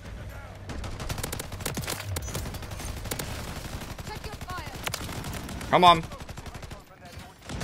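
Rapid bursts of light machine gun fire in the shooter game Modern Warfare III, dense repeated cracks rattling for several seconds before a louder blast near the end, while a player briefly speaks over them.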